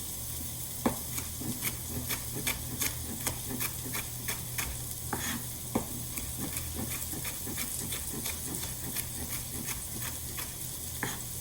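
Onions sizzling in a pan while cooking, a steady close frying hiss with scattered crackles and small pops, plus occasional stirring taps, continuing evenly throughout.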